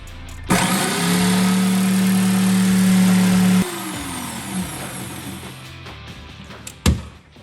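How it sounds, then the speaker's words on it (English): A jigsaw whines loudly for about three seconds, then shifts to a rougher cutting buzz through a bathroom vanity's center partition that stops, followed by a sharp clunk. "we're ready to cut the center partition. Jordan wants to use a jigsaw."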